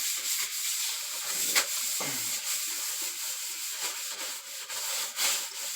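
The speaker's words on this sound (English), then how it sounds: "So I'm just kind of drying it back out a little, rubbing it down, just trying to get any of the last little putty excess off of there." A cloth or pad rubs steadily over a polyurethane-finished bar top to clear off leftover putty, producing a continuous close, soft scrubbing hiss with a few brief louder strokes and no talk.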